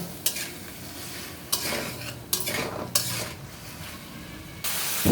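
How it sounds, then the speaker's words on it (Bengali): Vegetables cook down with fish in a pan, a continuous sizzle broken by several sharp spatula scrapes and stirs, close and fairly loud with no talking. "দেখো সবজিটা প্রায় কষানো হয়ে গেছে"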